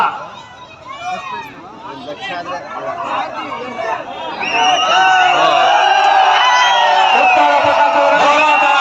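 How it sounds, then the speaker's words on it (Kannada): At a kusti wrestling competition in Kadugodi, a large crowd chatters, cheers and shouts, with children's high cries and whoops growing louder and more sustained partway through. "ಚಪ್ಪಾಳೆ, ಉತ್ತಮ ಪ್ರದರ್ಶನ, ಚಪ್ಪಾಳೆ. ಮಕ್ಕಳ ಕೂಗಾಟ, ಕಿರ್ಚಾಟ, ಶಿಳ್ಳಿ"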